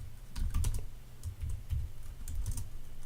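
Close, soft keystrokes on a computer keyboard while a folder name is typed, coming in short uneven bursts of clicks over a faint low hum, with no talk.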